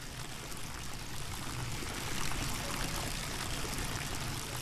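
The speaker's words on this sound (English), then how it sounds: "At least it's not sprinkling water onto that light or shorting anything else." Water pours and sprinkles from a broken pipe in the video game INFRA, a steady close rush of splashing flow that holds an even level the whole time without any talk.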